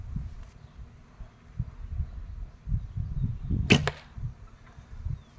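A single arrow shot from a recurve bow strikes the target with one sharp, loud impact, surrounded by quiet outdoor rumble.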